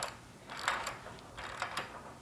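A ratchet tightens bolts on a steel-plate cable pulley mount for a weight stack slinger system, making quiet, scattered clicking bursts at close range with no talking.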